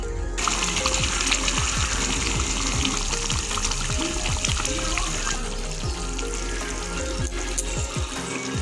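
Katla fish curry (kalia) bubbles and simmers steadily in a pan, a continuous close wet sizzle with scattered pops running the whole time, no voices.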